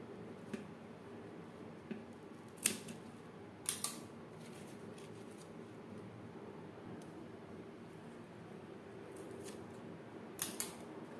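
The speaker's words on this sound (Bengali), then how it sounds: "এবার ছোটো ছোটো টুকরো করে কেটে নিতে হবে।" Water lily stems are snipped into small pieces, a handful of sharp crisp cuts spaced unevenly, some in quick pairs, close up over a quiet background.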